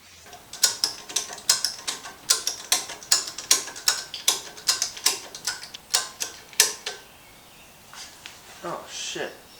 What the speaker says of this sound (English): I'd like to torque down the flex plate.